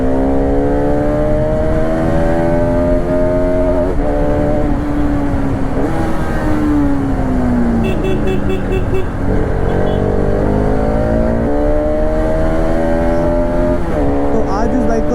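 A Bajaj Pulsar RS 200 BS3 motorcycle, eight years old, revs and accelerates hard through several gear changes, its engine note climbing and dropping loudly and continuously close to the rider.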